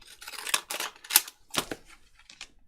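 Paper pieces being cut off with scissors for a junk journal, a series of short crisp snips and rustles close up, uneven in rhythm with brief pauses.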